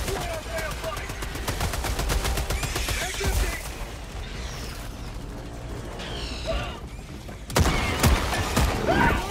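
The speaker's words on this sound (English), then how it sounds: "Watch that auto cannon, my boy." Autocannon fire in the video game Helldivers 2, a fast string of mechanical shots with clattering reload and gear noises, then a louder burst near the end, amid chaotic battle sound.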